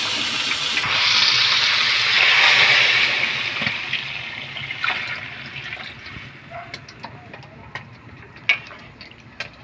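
Water gushes into a cooking pot holding pork chops for sinigang, a strong hissing pour for a couple of seconds that tapers off, followed by scattered small clinks and knocks.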